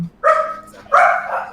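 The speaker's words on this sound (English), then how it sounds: "It's an aggressive dog." An aggressive dog lets out two close, loud barks, the second drawn out into a strained, whining howl, with little else around it.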